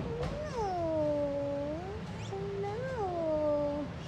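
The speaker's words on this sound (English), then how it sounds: "This is a really cool cat" Cat at a cat cafe in Harajuku gives two long, drawn-out meows one after another, close and fairly loud over a low background murmur of the room.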